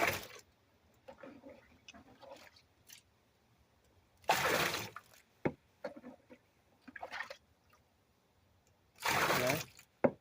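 Liquid is poured out of a bucket in a few separate bursts of splashing and gushing, with quiet gaps and small clinks between pours.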